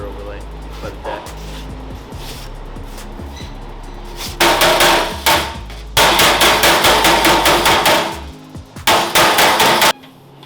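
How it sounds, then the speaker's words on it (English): Waffle-faced body hammer striking a metal panel against a dolly while shaping sheet metal for a 1973 Trans Am rear console area, loud rapid ringing blows in bursts with short pauses between. "the waffle part of the hammer against the dolly shrinks down all the lines"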